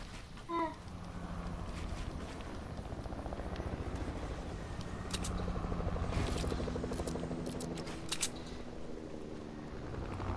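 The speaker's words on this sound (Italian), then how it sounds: "Qua sopra l'elicottero." A helicopter in the Fortnite video game, a steady rotor drone with a rhythmic thrum heard at moderate distance and holding throughout, with occasional short clicks and sharper bursts over it.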